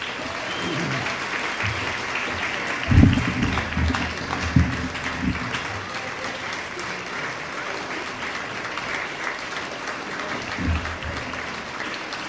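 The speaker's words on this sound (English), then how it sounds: "thank you for your applause" Banquet audience at a Newport chamber of commerce dinner applauds an award for a tourism supporter, a broad steady patter of clapping throughout with a few louder swells and low voices mixed in.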